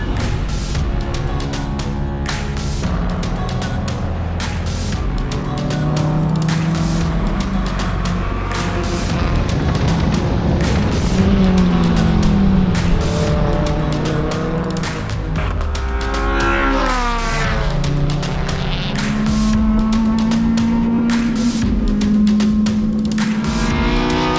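A Honda Civic race car with a swapped K-series engine laps a wet track, its engine note rising and falling through gear changes and revs, loud and close throughout with no talk.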